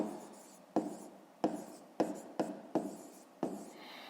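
A pen scratches on paper in short strokes, about six quick bursts with brief pauses between, close and quiet, with no talk over it.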